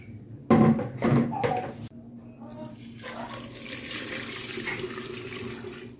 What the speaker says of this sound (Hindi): ये पूरा पानी हम इसके अंदर ऐड कर देंगे